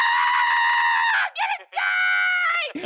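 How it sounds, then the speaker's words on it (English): Young girls in the Cyberpunk video game scream in loud, sustained high-pitched shrieks, two long bursts broken by a brief pause, close and dominant. "you hear like all of her little girlfriends like screaming in the back"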